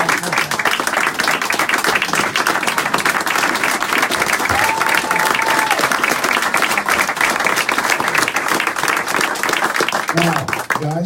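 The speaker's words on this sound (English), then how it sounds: "that's how much clapping you get" A library and community hub audience applauding, dense continuous clapping that stays loud and even throughout, with a few voices faintly mixed in.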